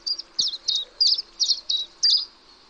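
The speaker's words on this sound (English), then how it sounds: "And this is house martin." House martins by a river give a quick series of about eight bright, twittering chirps in a steady rhythm, close and clear over a quiet background with a faint low hum.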